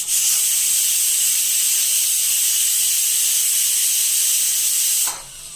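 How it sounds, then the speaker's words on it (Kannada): A loud, continuous steam whistle from a pressure cooker cooking mutton biryani hisses sharply for about five seconds, then cuts off abruptly. "ಕುಕ್ಕರ್ ಮುಚ್ಚಳ ಮುಚ್ಚಿ ಒಂದು ವಿಷಲ್ನ ಕೂಗಿಸ್ಕೊಳ್ತಾ ಇದ್ದೀವಿ"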